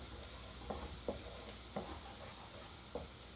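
Garlic fries quietly in a pan for a keema pasta dish, a soft steady sizzle broken by a few light stirring scrapes and taps, with no talking.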